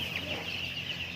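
Two-day-old broiler chicks peep in a shrill, continuous chorus, many overlapping cheeps from a flock close by, with no talk.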